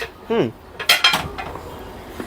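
A set of cooking pots is being handled at close range. Two or three bright metallic clinks and clatters ring out, with a voice briefly heard under them.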